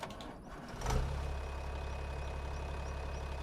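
A Deutz-Fahr tractor of about 230 horsepower in Farming Simulator 25 starts up after a brief clunk, then settles into a steady low diesel idle rumble, heard alone at moderate volume.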